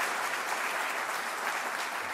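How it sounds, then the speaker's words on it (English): A large audience at an MLK breakfast gives a steady round of applause, dense clapping that holds evenly from start to finish. "can y'all just give Dina one more round of applause?"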